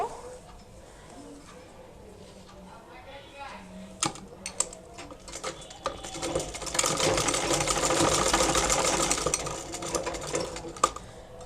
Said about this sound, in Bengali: এভাবে করে নিয়ে সেলাইটা করবো